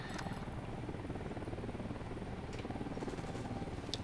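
A video game helicopter's steady rotor thrum fills the background in Ghost Recon Wildlands, a continuous low rumble with faint higher chatter, no voices over it.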